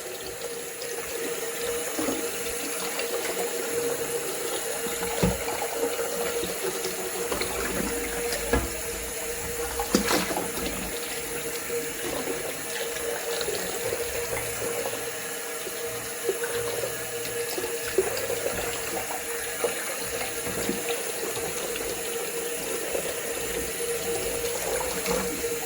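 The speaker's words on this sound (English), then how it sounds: "I'm gonna be washing the turkey with some fresh lemon juice." A full turkey crown being washed under a running kitchen tap, with a steady, continuous stream of water splashing into the sink throughout and no talking.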